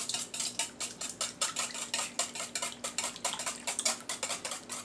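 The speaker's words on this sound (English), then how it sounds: "now you're going to whisk those eggs up." Eggs whisked in a bowl for plum ice cream, a fast regular clinking and tapping of a whisk against the bowl, close and steady without any talking.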